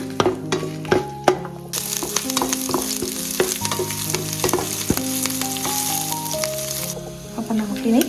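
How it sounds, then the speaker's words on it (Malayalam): Shallots sautéing golden in oil with dried red chilies and curry leaves, a Kerala-style tempering for ripe mango pulissery. A steady close sizzle runs throughout, broken by frequent stirring clatter and sharp clinks, with some sustained tonal ringing underneath. "ഈ ചെറിയുള്ളി നന്നായിട്ട് ഇനി ഗോൾഡനായിട്ട് വഴറ്റിയെടുക്കണം"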